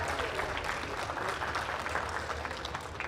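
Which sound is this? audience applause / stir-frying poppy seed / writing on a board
audience applause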